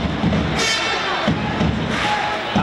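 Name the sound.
encouraging applause from Olímpic de Vic crowd for captain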